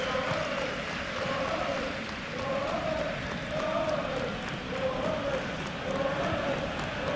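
A stadium crowd in the PES 2021 football video game roars steadily, with a constant murmur and rising chants swelling and falling in waves throughout.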